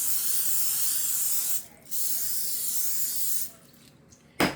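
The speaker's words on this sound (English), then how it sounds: "Now we're gonna spray it too." Two bursts of aerosol cooking spray hiss steadily, each lasting a second or more, followed by a brief clunk.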